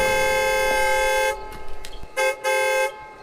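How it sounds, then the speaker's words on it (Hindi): A car horn blares in a long steady honk, then sounds two more shorter toots after a brief pause, loud and close. "उसे अपने पीछे से एक हॉर्न की आवाज सुनाई दी।"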